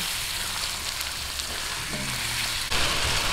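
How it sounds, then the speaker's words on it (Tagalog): Chicken pieces sizzle and fry steadily in a pan while being sautéed for arroz valenciana, a close, continuous crackle with a brief stir near the end. "Gisahin po natin bago natin po isunod yung atay"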